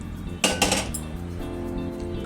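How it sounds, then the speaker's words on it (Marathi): A metal kadhai is set down on a stove to heat. Two quick clanking knocks ring out close by, then a faint resonant hum lingers. "आपण कढई ठेवते मी तापायला"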